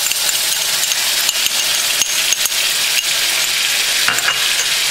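Garlic and Haitian épices frying in a pot, a steady close sizzle with occasional stirring scrapes and clicks, no talking.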